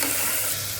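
Turnip pieces fry in a pan, giving a brief, even, close-up sizzling hiss with no talking.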